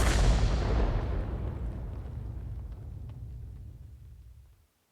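Tank cannon firing in a video game tank battle: one heavy, close boom that opens loud and rolls away in a long, fading low rumble.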